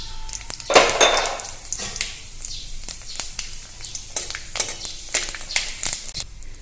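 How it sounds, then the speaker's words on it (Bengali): Bay leaves, dried red chilies and panch phoron crackle in hot oil in a wok, a bright spitting sizzle broken by repeated metallic clinks and scrapes of a spoon against the pan. "এখন আমি তেল দিয়ে দিব তেজপাতা দুটো শুকনো লঙ্কা পাঁচফোড়ন"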